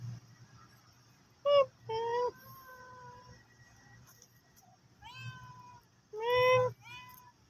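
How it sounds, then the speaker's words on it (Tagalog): Two cats meow in turn, several drawn-out, wavering calls in short bursts with pauses between, fairly close and clear over a low steady background hum. "Mag-asawa ng pusa."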